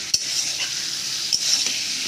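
Ghugni being stirred and fried in goat fat: a steady, close sizzle with a few sharp scraping knocks of the spoon against the pan, and no talking.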